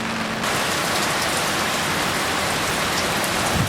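Heavy rain pours down in a dense, loud, continuous hiss of drops striking hard surfaces during a downpour of about 50 mm in an hour, with no voices.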